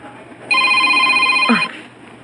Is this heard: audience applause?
no